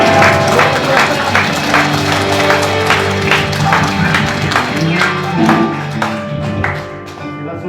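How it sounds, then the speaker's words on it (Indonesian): Church congregation at a Christmas service clapping in a loose rhythmic patter, loud and close, with music and voices running underneath throughout. "boleh tepuk tangan kepada Tuhan."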